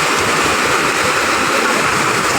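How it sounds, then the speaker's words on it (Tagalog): Waves wash steadily along the Manila Bay shore, producing a continuous loud, close rushing of water with no distinct breaks and no voices. "Alon."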